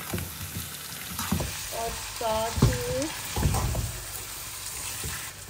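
Chicken sizzling and frying in a hot pan for a biryani, a steady broadband hiss with stirring clatter and a brief spoken word over it.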